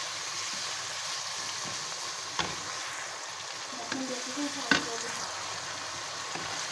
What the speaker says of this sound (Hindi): इसको आप फ्राई करेंगे दरदरे मसाले को साथ में।